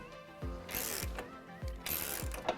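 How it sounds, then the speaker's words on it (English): A ratchet clicks in four quick bursts, each a rapid run of pawl clicks, as it tightens a Jeep JL shock mount bolt with an 18mm socket during a suspension lift install; close and fairly loud, with no talking. "I'm gonna start with this top mount, tighten it up with an 18mm socket"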